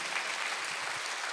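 A church congregation at a Sunday worship service claps together, a short, steady wash of applause at moderate distance, sustained and without speech.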